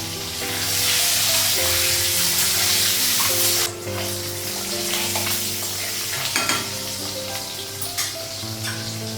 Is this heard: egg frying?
yes